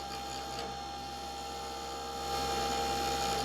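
Wood lathe spinning an acrylic resin pen blank on a mandrel with bushings, a steady mechanical whine and hum with a faint cutting hiss, swelling slightly louder near the end.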